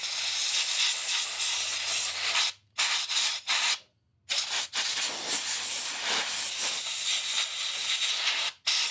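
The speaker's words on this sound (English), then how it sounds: "So I got some compressed air. We're just going to be blowing this section out" Compressed air blasting debris out of a section of a non-running Murray lawn mower: a loud, continuous close hiss that breaks off in a few short gaps before resuming.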